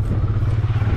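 A motorcycle engine runs close by during a ride, giving a steady, throbbing low rumble with a faint clatter over about a second.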